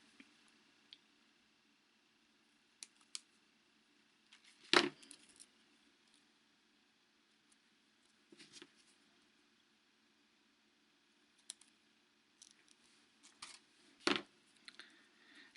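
Wire cutters snip excess wire from a wire-wrapped pendant: a few faint, sharp clicks and snaps spread over a quiet stretch, close and isolated, with soft metallic handling noises between.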